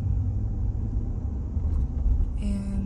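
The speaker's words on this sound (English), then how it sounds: "Just driving through." A car drives through the UCLA campus past new buildings, giving a steady low road rumble and engine hum throughout, with a faint higher tone creeping in near the end.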